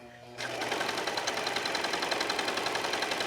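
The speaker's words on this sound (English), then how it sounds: "I'm allowing the serger just to feed the fabric." A serger stitches fabric around a corner, its fast, steady mechanical whir starting abruptly after a brief moment and running loud and continuous to the end.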